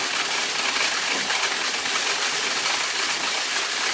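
A Cummins Allison Jetsort M2000 coin sorter spins and sorts a large batch of coins, a loud, dense, continuous metallic jingling and rattling that stays steady throughout.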